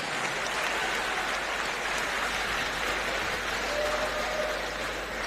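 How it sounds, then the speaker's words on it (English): Crowd at a grappling event applauds the lightweight champion, a thick, roaring wash of clapping that stays loud and even throughout, dense enough to sound almost like heavy rain. "Ladies and gentlemen, round of applause for your lightweight champion"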